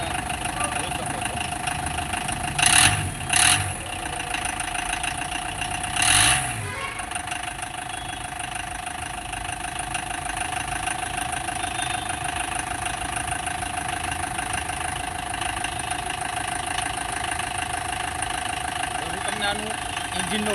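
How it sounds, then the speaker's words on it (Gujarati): A homemade vintage jeep engine, built in Rajkot, idles steadily with a low mechanical drone and faint knocking, with a few brief louder thumps early on. "આ ગાડીનું સ્ટાર્ટિંગ છે."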